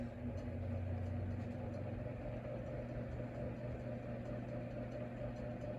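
A Codep model 314 36-inch industrial ceiling fan motor running, a quiet steady low hum with a faint electrical drone and no change in speed, heard alone.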